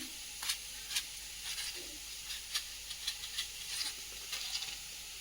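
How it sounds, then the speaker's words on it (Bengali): Nigella seeds sizzle in hot oil in a wok, a soft continuous hiss broken by small crackling pops, close but fairly quiet, with no voices. "কড়াইতে দিয়ে দেবো কালো জিরে"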